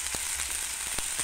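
Chicken for frango xadrez frying in a pan, seasoned with salt, soy sauce and ground cumin, giving a steady faint sizzle with a few soft clicks.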